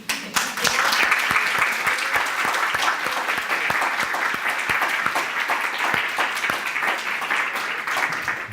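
An audience applauds steadily, many hands clapping in a dense, sustained wash from start to finish with sharp individual claps standing out above the crowd.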